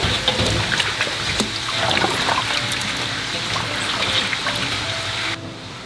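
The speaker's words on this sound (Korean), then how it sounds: "이렇게 체에 받쳐서 그냥 물만 살짝만 빼주면 됩니다." Water drains from rinsed crunchy peppers set in a sieve, a steady close trickle and patter that continues evenly and then stops abruptly just before the end.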